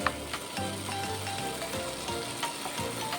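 Eggplant and tomatoes fry in a covered pan, a steady close sizzle with soft crackles running throughout and no talking.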